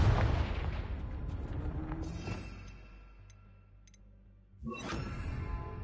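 A magic blasting spell in Hogwarts Legacy detonates with a deep, rumbling boom that decays over a few seconds, followed by a second sharp burst near the end, with faint ticks and debris in between.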